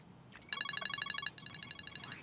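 A telephone rings indoors with a bright electronic trilling pattern, two rapid bursts of repeated tones, moderately loud and without talk.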